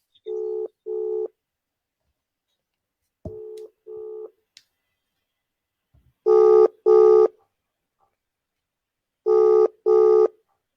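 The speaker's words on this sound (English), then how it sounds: "This is his phone ringing now." Ringback tone on an outgoing phone call: paired beeps repeat at regular intervals with silence between them, clear and close with no talking.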